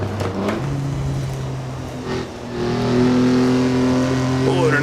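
A historic race car engine revs hard through its full range in Assetto Corsa at the Pau Grand Prix street circuit, a loud sustained buzzing drone that dips briefly and then climbs again as the car accelerates.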